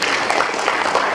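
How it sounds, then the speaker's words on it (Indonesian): Audience at an IGC 2018 seminar with Dr Agus Ali Fauzi applauds, a dense, steady wash of many hands clapping together, fairly loud and continuous throughout with no pauses. "Tepuk tangan untuk Indio."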